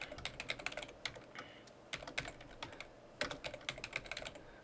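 Quiet typing on a computer keyboard while entering product option names, a run of soft irregular key clicks with brief pauses between bursts, close and alone with no voice.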